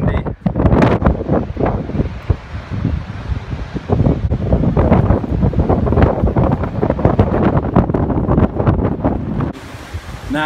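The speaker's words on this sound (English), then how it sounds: "It's all windy, as you can also hear from my video." Strong gusts of wind blast across a beach with dangerous waves, producing loud, turbulent roaring that buffets the microphone and swells and surges throughout. No one speaks.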